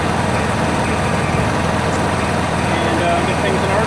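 A Honda 7k generator engine idles and warms up with a steady, rumbling drone throughout, while a person talks over it.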